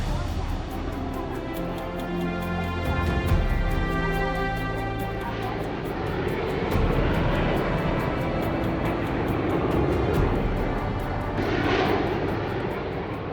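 Snowbirds aerobatic team aircraft depart at Comox's Air Force Beach. Their engines make a loud, sustained droning roar that swells and fades over several seconds, while people talk underneath.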